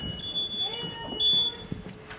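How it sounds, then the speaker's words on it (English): A high-pitched electronic alarm tone beeps steadily over a low background hum at the Southampton Boat Show, with no one talking. "And we've got that annoying alarm again."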